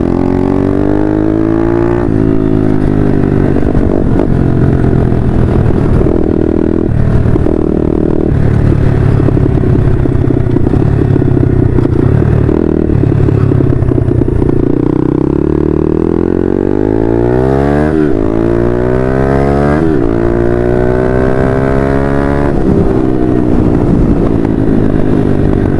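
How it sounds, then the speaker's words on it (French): A trail motorcycle runs continuously while riding, its loud engine rising and falling in pitch with throttle changes, over a steady rumble and occasional clattering from rough ground, with no talk. "ce que j'aime bien sur ce genre de moto, c'est qu'en fait ça a tendance plutôt à faire beaucoup de bruit"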